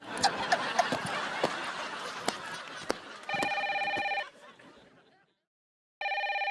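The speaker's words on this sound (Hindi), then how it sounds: "जरा देखो किसका फोन आया है।" A telephone bell rings in a Hindi household sitcom scene, two bursts of steady electronic ringing after a stretch of laughter and clatter, with a short silence between them.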